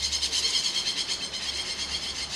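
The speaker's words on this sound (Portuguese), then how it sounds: "Oi, passarinho doido!" A small bird calling nearby, with rapid, repeated high-pitched chirps running continuously and fairly loud over a low steady hum.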